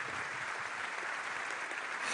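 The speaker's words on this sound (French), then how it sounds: "Applaudissements nourris à la fin du discours." Sustained applause from an audience at the close of a political speech about terrorist attacks, a dense, steady wash of clapping that stays loud and even throughout, with no voices over it.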